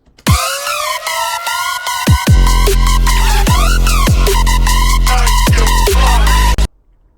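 Electronic hybrid trap tearout track with a bright synth lead over booming sub-bass hits and sharp percussion, loud and continuous before cutting off abruptly.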